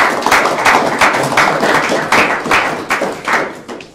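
A lecture audience claps for the speaker, a loud, close run of hand claps with a steady pulsing rhythm and no talking over it.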